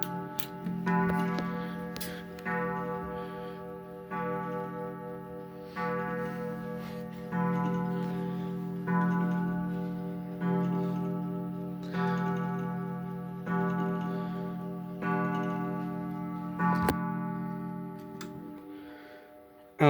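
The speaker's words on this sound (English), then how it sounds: "Very nice coil gong on this one." A small German box clock ticks steadily while its striking train hits a coil gong, ringing tones repeating about every two and a half seconds, each bloom decaying under the regular ticks, close and fairly quiet.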